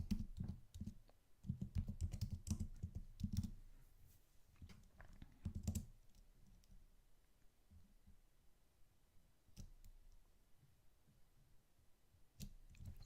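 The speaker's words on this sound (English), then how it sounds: "it'd be great if I actually typed all the words that I said." Someone types on a computer keyboard in a quiet room, with irregular runs of soft, faint key clicks that grow sparser and stop for stretches before a few final taps.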